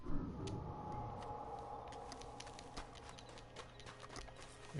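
Horse hooves clip-clopping in Red Dead Redemption, a soft, steady trot that stays fairly quiet and close under low ambient game sound.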